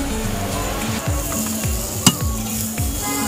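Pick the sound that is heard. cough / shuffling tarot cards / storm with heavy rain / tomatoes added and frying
tomatoes added and frying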